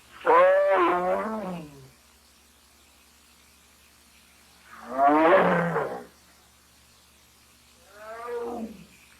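Three deep, rasping tiger roars from a 1948 film come at long intervals, the first two loud and close and the third shorter and fainter, with near silence between them.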